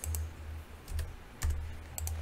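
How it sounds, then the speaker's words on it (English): Arrow keys on a computer keyboard are pressed in Tinkercad in four separate clusters of quick clicks. Each burst is close and crisp against a low steady hum, with no talking. "I'm going to use the arrow keys to move it down."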